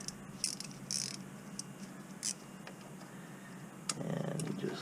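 A 5 millimeter socket on a ratchet loosens a bolt on a Jetta during a tune-up, giving faint, close clicks of the pawl in short bursts against a low steady hum, with no voices.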